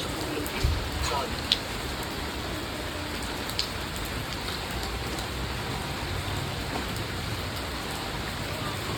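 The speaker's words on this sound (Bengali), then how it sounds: "সুন্দর সুন্দর বৃষ্টি বাদলের দিন" Steady rain falls as a dense, even hiss with scattered drops, continuous and moderately loud throughout.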